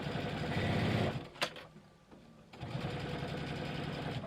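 Sewing machine stitching a corner seam on an ID pouch, a steady close buzzing run that stops briefly, then resumes at an even pace.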